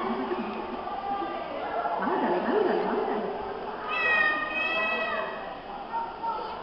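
Children at a Three Kings Day activity by a river imitate a dog and a cat together, voices mimicking barking and a long drawn-out meow in a noisy, lively burst close by.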